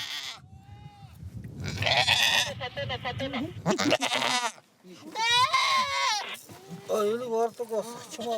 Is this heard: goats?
yes